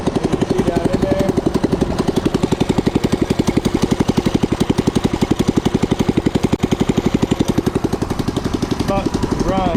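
A Yamaha BT200X motorcycle left out in the rain runs with a loud, close, rapid single-cylinder putter, steady and even throughout, with a voice faintly under the engine.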